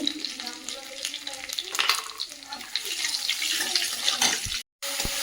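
Pointed gourd (potol) frying in a pan for a prawn dish, a steady close sizzle with stirring scrapes throughout, broken by a brief silent gap near the end.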